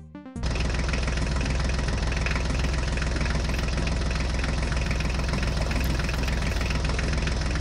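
A toy tractor engine in a children's animated story kicks in abruptly after a brief sound. It settles into a loud, steady idling drone with a dense rumbling texture that runs unbroken to the end, with no voices.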